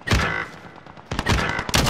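Bursts of Uzi submachine gun fire in a hardcore Modern Warfare match, two loud volleys separated by a quieter gap, close and sharp with no talk over them.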